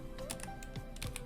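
Quick light keystrokes on a computer keyboard, a short burst of a few clicks close by with no voices.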